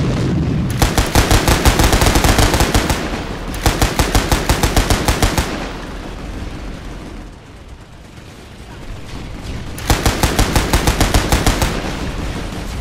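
Automatic gunfire in a science fiction audio drama battle: loud, close bursts of rapid machine-gun shots in three long volleys, separated by a short lull with rumbling background.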